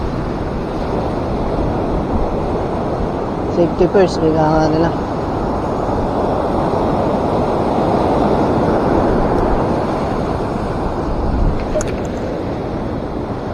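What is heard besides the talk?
strong ocean waves on shore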